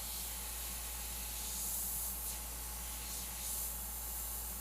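An airbrush sprays paint onto a tribal skull design in a steady close hiss that swells slightly in a few light passes.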